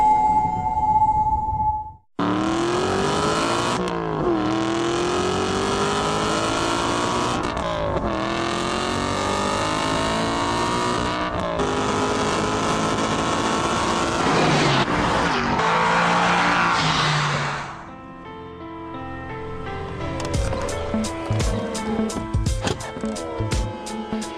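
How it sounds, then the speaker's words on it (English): An Aston Martin Vantage V8 engine revs hard through repeated upshifts, loud and close, then drops to a burbling idle with crackling pops. "The Aston Martin Vantage always sounded great, but now that spine-tingling V8 is available in surround sound."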